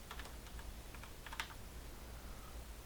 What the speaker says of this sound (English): I'm going to type it in this time